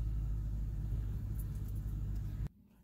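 A 2003 Infiniti M45 engine idles with a steady low rumble close by, cutting off abruptly near the end, with no talking.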